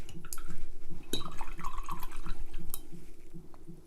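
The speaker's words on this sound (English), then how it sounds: "a little bit of water to clean my brush" A small watercolor brush swishing and dripping in a jar of clean water, soft liquid sloshing and faint drips throughout, fairly close, with a low steady hum beneath.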